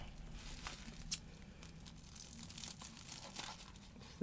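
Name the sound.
bubble wrap being trimmed and crinkled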